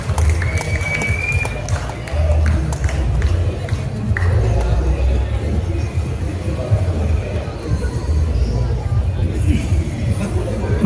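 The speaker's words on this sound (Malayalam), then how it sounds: "നല്ലൊരു കൈയ്യടി നമുക്ക് കൊടുക്കാം." An audience applauds at a Malayalam film trailer launch in Kerala: steady, dense clapping and crowd noise fill the room, loud and continuous throughout.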